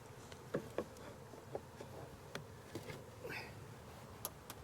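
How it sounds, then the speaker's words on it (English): Honey bees buzzing as they escape from an open hive during beekeeping work, a steady close drone with scattered brief wing flicks and faint taps. "Oh, we got some bees escaping, so we're going to put that right there."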